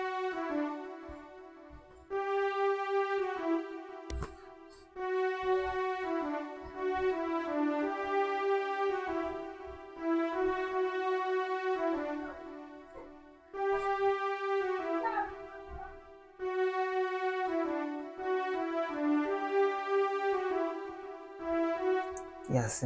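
A simple orchestral melody from a stock FL Studio plugin plays in sustained, harmonically rich notes, phrase after phrase with short gaps, steady and clear with no talking over it.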